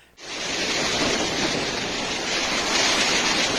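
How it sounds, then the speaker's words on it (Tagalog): Strong typhoon wind and rain lash Basco in Batanes, a loud, unbroken roar of gusts and downpour that starts abruptly and stays steady. "ramdam din ang malalakas na ulan at hangin"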